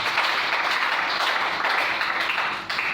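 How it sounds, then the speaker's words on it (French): A church congregation applauds, with steady, dense clapping that holds at an even level throughout, like a crowd acclaiming the Lord during a sermon. "Est-ce qu'on peut acclamer le Seigneur?"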